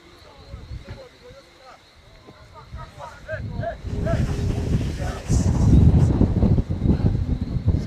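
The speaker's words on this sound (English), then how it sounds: "we're battling strong gusts of wind" Strong, gusty wind buffets a football pitch during a rainy cup semifinal, roaring louder in surges toward the end, with a commentator's voice running over it.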